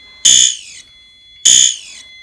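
An agent release fire suppression system sounds its pulsing alarm: two loud, identical electronic horn blasts about half a second long, separated by a short silence.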